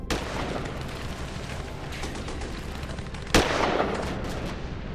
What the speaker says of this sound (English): the PLA opened fire in the streets of Lhasa, and on 17th, it started firing mortars aimed at the Potala Palace